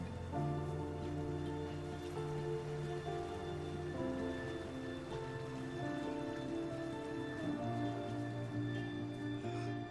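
Steady rainfall in the video game Death Stranding, a soft continuous patter heard alongside sustained musical tones, with no voices.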